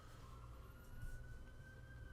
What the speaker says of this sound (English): yes, there are sirens behind me